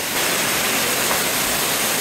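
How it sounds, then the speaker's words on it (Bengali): Khaiyachhara waterfall rushes in a steady, broadband roar of falling water, loud and continuous with no talk. "এই হচ্ছে খোয়াছড়া ঝর্ণা"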